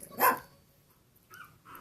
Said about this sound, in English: Tan-coated Ringo musters up his best alarm call.